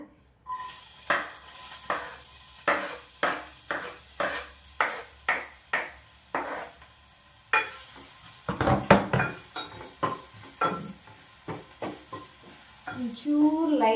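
Chopped onions go into hot oil and fry in a pan, a low sizzle broken by a regular series of sharp spatula taps and scrapes against the pan, loud and close, without speech.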